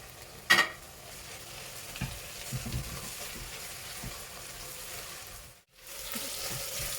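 Coriander and mint leaves sizzle steadily in a hot pan for a Tamil red chicken kurma, with a sharp clank of the spoon early on and soft scraping stirs throughout.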